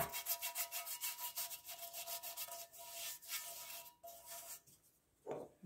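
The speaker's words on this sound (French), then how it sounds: "je vais graisser ma platine à tarte" Greasing a metal tart pan before lining it with apple tart pastry, with steady close-up rubbing and smearing strokes in a rapid scrubbing rhythm, briefly pausing near the end before one last stroke.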